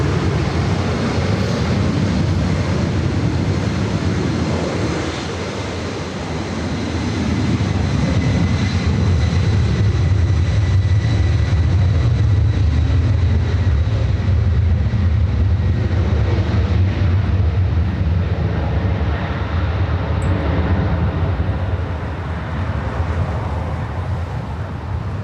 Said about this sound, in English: Bringing back that 777-200ER coming in from Vienna, flight 81.